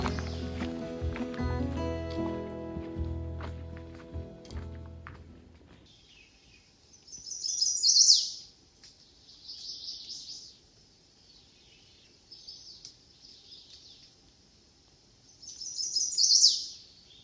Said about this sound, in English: you're hearing chestnut-sided warblers here. It sounds like there's one on each side of the trail here, and that they're calling back and forth to each other.